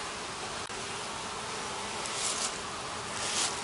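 Honeybees swarm over a brood-box frame during hive inspection, making a continuous, even buzzing hum that is soft and close, with no voices.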